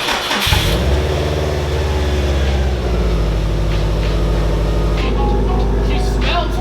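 A car engine cranks briefly and then catches, settling into a loud, steady idle with a slight rise in revs, close by.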